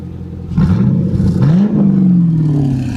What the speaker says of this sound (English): let you hear the quad exhaust